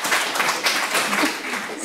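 An audience applauds at a lecture event, with a dense, sustained patter of many hands clapping at steady loudness throughout.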